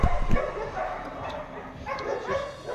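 An explosive detection sniffer dog at a training center barks and yips in short bursts, loud and close, with some whimpering between the barks amid outdoor noise.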